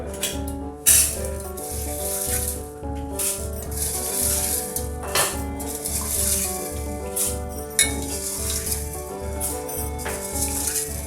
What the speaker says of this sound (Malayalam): നേരത്തെ തന്നെ കുതിർക്കാൻ വെച്ചിരിക്കുന്ന ചെറുപേര് ഒരു ഗ്ലാസ്സാണ് എടുത്തിരിക്കുന്നത് അപ്പോൾ നമുക്കിത് കുക്കറിലേക്ക് ചേർത്ത് കൊടുക്കാം